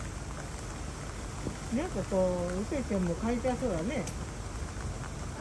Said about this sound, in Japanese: 雨降ってるから